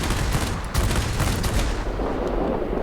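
Me 109 TL cannon fire in World of Warplanes, with dense, loud rapid bursts of heavy autocannon shots over a constant engine roar, continuing for the whole stretch and easing slightly toward the end.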